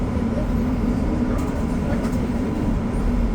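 Steady, loud rumble and rail noise of REM light metro trains on the Anse-à-l'Orme branch, heard continuously from nearby with faint clicks over the drone.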